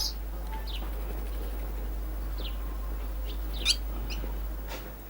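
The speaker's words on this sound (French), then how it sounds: "l'ardeur des sérénades poussées par les mâles, qui s'égosillent à en perdre haleine à côté de leur coupe de terre" Male barn swallows sing beside their mud-cup nests in a barn or stable, giving a few faint, scattered twittering chirps over a steady low background hum.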